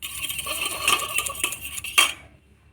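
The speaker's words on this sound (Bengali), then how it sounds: "তো এবার সেই যে জল ঝরানো দইটাকে চামচের সাথে ভালো করে ফেটে নেব।" Strained yogurt beaten with a fork in a bowl, a steady run of light metal scrapes and clinks close by, with a sharper clatter near the end before it stops.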